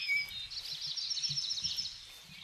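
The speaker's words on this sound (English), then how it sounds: "Bird sounds fill my ears." Birds call and chirp in the jungle of Bor Tiger Reserve, a dense chorus of high, overlapping tweets and whistles that runs steadily throughout over a faint low rumble, with no talking.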